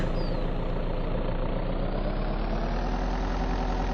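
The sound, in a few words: truck engine idling in the video game Vein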